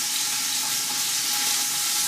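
Meat browns in a pan for a family pasta sauce, giving a steady, close, hissing sizzle with no pauses and no voices.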